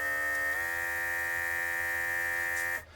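A small cordless airbrush compressor whines steadily, then steps up to a higher, faster pitch when switched into higher pressure mode, holding there before cutting off at the end.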